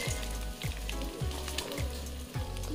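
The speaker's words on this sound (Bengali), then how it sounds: "2 মিনিট এই পেঁয়াজ আর ক্যাপসিকামটা একটু ভেজে নেব" Square-cut onion and capsicum frying in a pan for chilli cauliflower, a close, dense sizzle with crackles, over a repeating low whooping hum that rises about every half second.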